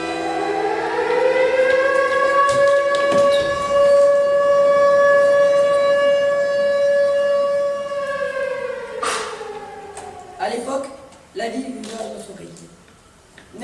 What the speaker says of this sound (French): Ils attendaient la sirène et tout le monde savait qu'on embauchait ou qu'on débauchait.